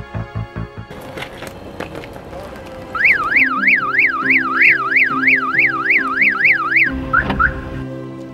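A car alarm blares nearby, cycling through rapid warbling and pulsing electronic tones, loud and repetitive after a few short beeps.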